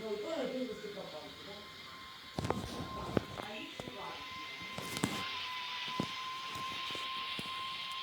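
An airplane rolls down the runway just after touchdown, with the engines being shut down and light rain falling. A steady broadband roar runs throughout, broken by scattered thumps and rattles from about the midpoint, while people talk nearby.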